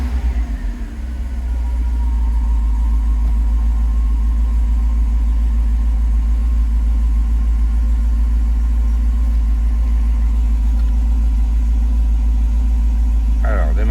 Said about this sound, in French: Allez, démarrage à froid. Il n'a pas tourné depuis 2 jours.